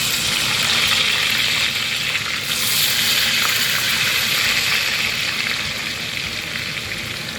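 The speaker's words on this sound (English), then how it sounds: "now we're gonna fry the potatoes" Potatoes frying in hot oil, a steady dense sizzle and crackle that stays loud and even throughout, close up with no voices.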